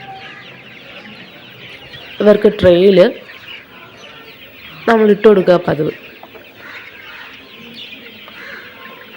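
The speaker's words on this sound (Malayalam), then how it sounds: "കോഴികളെല്ലാം നമ്മളെ വെയിറ്റ് ചെയ്തിരിക്കുകയാണ്." Chickens cluck and squawk inside a shed in two loud bursts, with a voice talking in between over a steady background of birds and murmur.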